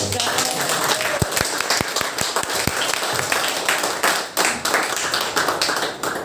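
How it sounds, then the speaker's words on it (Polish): Applause from a church congregation after a prayer at an elder's ordination service, a sustained wash of many hands clapping close and fairly loud, with a few sharper individual claps standing out early on. "Oklaski"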